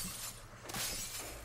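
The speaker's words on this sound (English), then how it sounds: "You break the glass and you rebuild it." Glass shattering in the zombie-survival shooter COD Zombies, map "Five", a crunchy breaking burst loud over continuous game noise with no talk.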